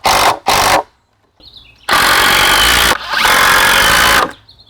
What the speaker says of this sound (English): So you're gonna drill 2 screws in each brace.